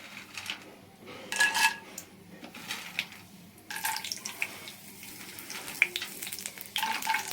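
Peanuts and cashews fry in an oiled pan, giving intermittent bursts of sizzling and crackling with quieter gaps between, close by and without talk.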